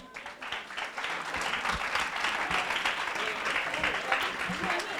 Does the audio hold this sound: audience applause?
yes